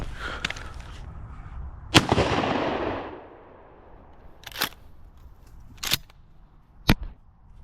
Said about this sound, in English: Let me go ahead and shoot some clay.